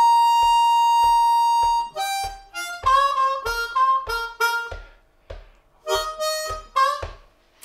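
An Eb harmonica plays the intro lick of a song: a long held note, then a run of short bright phrases over a steady ticking beat, close and alone.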